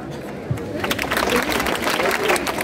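Audience applause at a National Youth Day celebration for Swami Vivekananda's birthday: a dense, sustained wash of clapping swells in after a quiet start and continues beneath a speaking voice.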